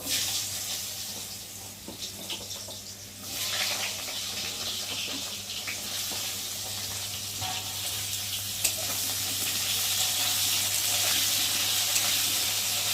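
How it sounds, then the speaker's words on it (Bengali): Cut potatoes frying in hot oil with black cumin, a steady close sizzle with light stirring and scraping running continuously throughout. "আর এখন এই যে কেটে রাখা আলু দিয়ে ভেজে নেব।"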